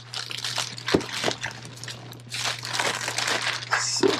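A plastic bag crinkles and rustles in irregular bursts as an order is packed, heard up close over a low steady hum.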